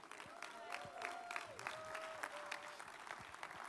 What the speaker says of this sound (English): Let's give one big last round of applause for all of our students.